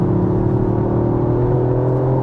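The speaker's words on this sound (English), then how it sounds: "How do I feel about the whole piped engine noise?" A steady, rising engine drone heard from inside a Toyota GR Yaris as it accelerates, artificial engine noise piped into the cabin, smooth and continuous with a low humming tone and no talking.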